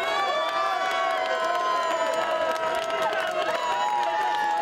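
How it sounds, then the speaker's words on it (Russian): Crowd of football fans cheering and shouting at a regional match, a steady sustained roar with scattered whoops and higher voices, heard at a distance throughout. "Ликующие болельщики."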